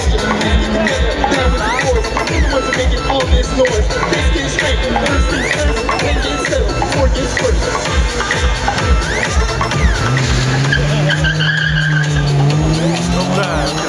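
Rally cars launch at the start of a night sprint race at Panenský Týnec, loud nearby engine revving with tire skids and squeal, then a rising engine note as a car pulls away. A crowd murmurs faintly in the background.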